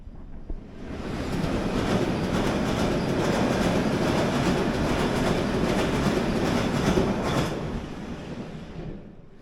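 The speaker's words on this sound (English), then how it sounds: "There goes the train." A London Underground train rumbles past nearby near Hyde Park, a loud, steady roar of wheels and rushing air that swells in and fades out over several seconds.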